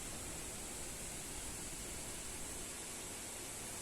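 Waterfalls in the Arslanbob walnut forest of Kyrgyzstan give a continuous rushing hiss of falling water, even and unbroken, heard from a viewpoint at a moderate distance.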